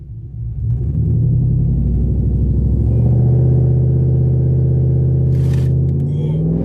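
A pickup truck launches hard in four-wheel drive, its engine rising from a low rumble into a loud, sustained roar that holds steady through the run, close and alone.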